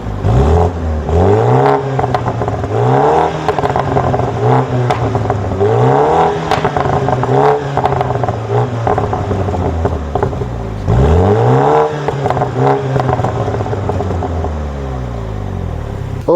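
A 2021 BMW M135i F40 hot hatch with the B48 engine drives on the road, its engine revving up through repeated gear-change sweeps, loud and close with a whirring, clattering tone and no talk.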